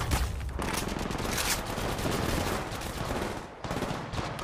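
Rapid automatic gunfire from the Apex Legends Mobile battle royale game crackles in dense, continuous bursts, loud and close, with only a brief break before the shots resume.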